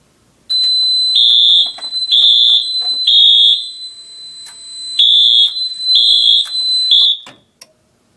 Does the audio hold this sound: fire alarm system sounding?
yes